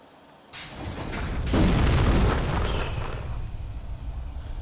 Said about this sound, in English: I'm tired of these fucking explosions.